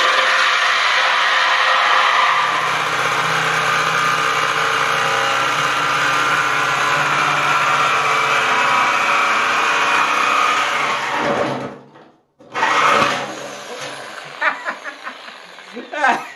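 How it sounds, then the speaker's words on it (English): A reciprocating saw (Sawzall) cuts into a steel snowplow cylinder with a loud, continuous buzzing grind that stops abruptly near the end, followed by scattered clanks and a few chuckles. "Dave wants to use the sawzall to cut the cylinder"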